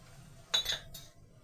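Spoon scraping and clinking in a pan while stirring onion, pepper and tomato paste, two or three brief metallic clinks over a quiet background.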